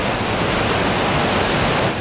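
Whitewater rushing through the Wild Mile section of the Swan River near Bigfork, Montana, a dense, constant roar heard up close and alone.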